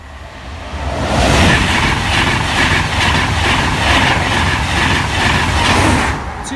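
A train runs past the Grove Road level crossing, a loud, steady rolling roar with a repeating rhythmic clatter that holds for several seconds before easing off at the end.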